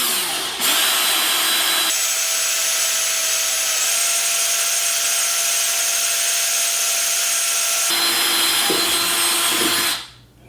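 A power drill bores a hole during a universal three-port oil catch can installation, a loud continuous whirring whine that holds for about nine seconds before winding down, with no talking.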